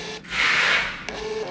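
A compact MTP3 Bluetooth thermal printer runs off a bus ticket, giving a close, steady whirring feed that swells and fades over about a second before a brief click and a short second burst.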